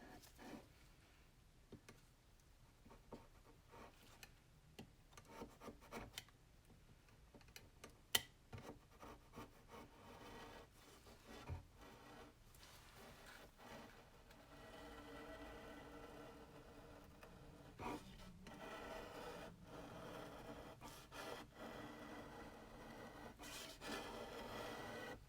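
Blade scraping across an egg tempera painting in a studio, faint dry rasping strokes repeating irregularly with occasional light ticks and taps, quiet and close.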